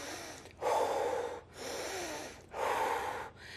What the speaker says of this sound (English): I'm doing, like really heavy breathing